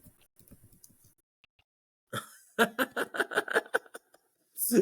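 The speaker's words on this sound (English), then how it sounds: "We both started typing." Two people typing on computer keyboards: after some quiet clicks, a burst of rapid, close key taps runs for about two seconds, followed by a short laugh.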